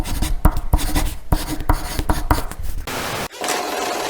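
Pen scratching on paper in quick, uneven strokes with sharp taps, close and fairly loud, followed by a softer continuous scribble, no talk.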